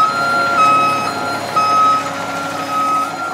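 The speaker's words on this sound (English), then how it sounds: "I hear him. The truck is here." A concrete truck backs up on a job site with its reversing alarm sounding. A loud, steady high-pitched beep repeats about once a second over a low engine idle.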